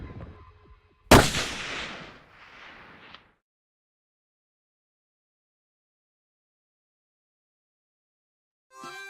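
A single sharp rifle gunshot during a whitetail buck hunt in Wyoming, a loud close crack followed by a fading rolling echo, then silence.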